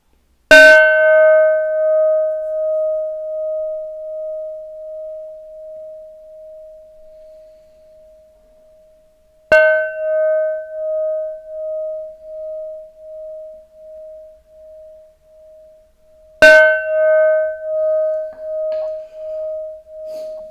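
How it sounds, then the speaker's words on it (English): Three single bell strikes spaced several seconds apart, each a clear ringing tone that decays slowly into silence, heard alone with no talking. "there was real clarity with the first bell, and then the second bell went"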